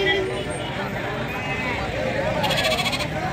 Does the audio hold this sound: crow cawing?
no